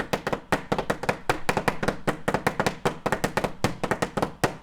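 Steady interlocking hand claps layered into a four-against-three polyrhythm, dense crisp strikes repeating without pause, near and fairly loud with no voices.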